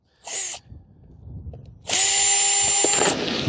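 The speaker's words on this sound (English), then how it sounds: "all I'm going to do is just loosen up the screws here" A cordless power drill loosening screws on a wall panel of a solar-powered gold rattler wash plant: a short whirring burst, a pause with faint clicks, then a longer loud whine close by.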